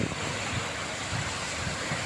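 Sea waves washing in a continuous, fairly faint broadband wash mixed with wind noise, with no talking.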